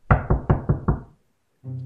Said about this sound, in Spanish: picaron a la puerta.